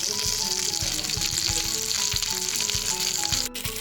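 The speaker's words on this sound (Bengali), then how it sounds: "তো মাছগুলো ভালো করে ভাজা হয়ে গেছে।" Fish pieces frying in a pan of oil, a constant close crackling sizzle with faint rhythmic knocks underneath, briefly dipping near the end.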